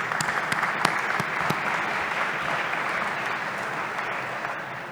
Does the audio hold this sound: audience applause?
yes